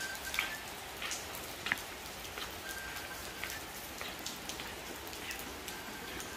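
Heavy rain falls steadily during the rambutan harvest in Nghia Dan, Nghe An, a constant dense hiss with scattered louder drips and taps on nearby surfaces and no voices.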